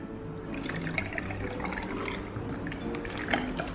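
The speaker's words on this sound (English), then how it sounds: "so let's pour the milk in" Milk pours in a steady, gurgling liquid stream for a few seconds, moderately close, with light splashing throughout and no talking.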